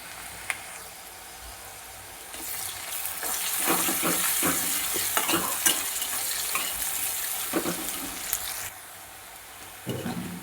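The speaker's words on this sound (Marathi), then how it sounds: "कांदा छान भाजत आला आहे" Chopped onion frying with salt in a pan for Kolhapuri chicken masala, a steady close crackle and hiss that swells louder midway with small stirring knocks, no talking.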